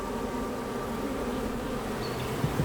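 Bees forage for food in a city, their close, steady droning buzz filling the air with no voices.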